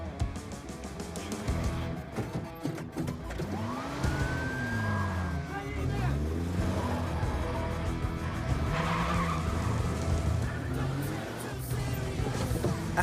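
Police cars chasing another car, with tires skidding and squealing, a rising siren-like whine and continuous engine roar filling the scene, some voice sounds mixed in.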